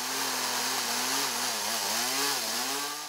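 A chainsaw carving wood for sculpture runs close and loud, its engine holding a steady droning whine that dips and rises slightly as the blade bites into the timber.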